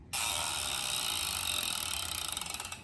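Demolition Whistler Pro BMX hub freewheeling with a loud, fast ratchet buzz, rapid pawl clicks that slow into distinct ticks near the end, close and alone.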